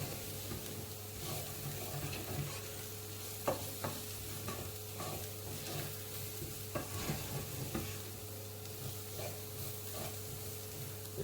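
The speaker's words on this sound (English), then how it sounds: "I'm just going to give that a good stir" Cinnamon and allspice stirred in a frying pan, a gentle sizzle under repeated scraping strokes of a spoon against the pan, fairly quiet and close.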